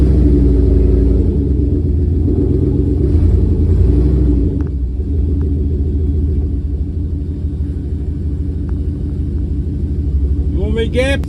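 An LS-swapped Studebaker car idles with a deep, steady engine rumble close by, while people talk over it.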